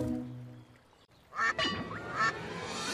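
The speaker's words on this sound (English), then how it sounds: "Here comes a duck!" A duck gives a few loud, nasal quacks in quick succession, close by, after a brief lull.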